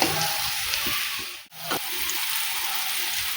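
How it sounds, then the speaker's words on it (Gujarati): Besan (gram flour) mixture sautéing in a pan over low gas, a steady broadband sizzle that briefly drops out mid-way and then resumes, close and continuous with no talk. "સરસ રીતે મિક્સ કરી આપણે તેને ધીમા ગેસ પર 2 મિનિટ માટે સાંતળી લઈશું"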